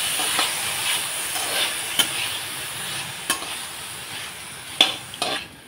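Marinated chicken is stirred in butter in a frying pan while making chicken fried rice, a steady broad hiss with a few sharp scrapes and clinks of the spoon against the pan, close and moderately loud.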